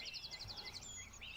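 Birds chirp outdoors in quick repeated high trills, faint and somewhat distant, over a soft background hum with no one speaking.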